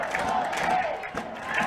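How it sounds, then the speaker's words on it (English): A high school football crowd at an Ozark Conference game cheers and shouts in a broad, distant-sounding roar, with an announcer's voice talking over it. "Crowd into the game."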